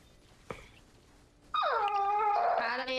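A pet dog named Ema whimpers and whines in long, high, wavering cries right up close, after a brief sharp sound and a quiet stretch.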